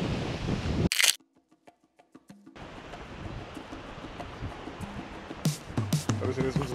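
A crisp camera shutter click, then a brief hush before outdoor wind and surf return on the Baltic Sea coast; more sharp clicks come near the end.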